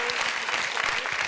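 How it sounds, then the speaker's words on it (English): Short burst of lively audience applause at a science youth seminar, many hands clapping loudly and close, with a voice briefly audible over the clapping. "More applause."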